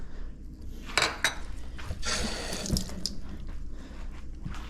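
Fresh cilantro rinsed under a running kitchen tap. Water splashes and trickles steadily, with a couple of sharper clinks from a bowl or dish and no voices.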